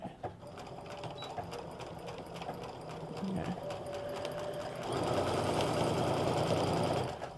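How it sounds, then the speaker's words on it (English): A sewing machine backstitches a skirt seam with lining in a fast, even run of needle strokes that grows louder and denser near the end, while a voice talks over it. "Now, as I'm sewing, I'm not watching where the needle is going"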